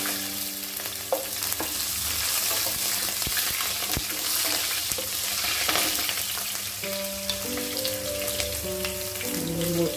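Green chillies frying in hot oil with cumin in a pan, a dense continuous sizzle and crackle with stirring, and a sustained tonal hum near the end, no talk.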